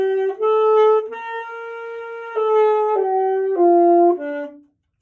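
An alto saxophone plays a slow stepwise scale of sustained, clear tones, each note held about a second before moving to the next and ending with a soft release, close and solo.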